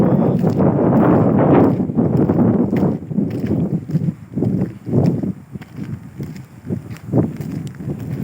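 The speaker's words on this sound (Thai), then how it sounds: "ฟังเสียงลมด้วย" Cold winter wind blows outdoors in Finland, buffeting the microphone in uneven gusts with a deep, rumbling roar that swells and fades.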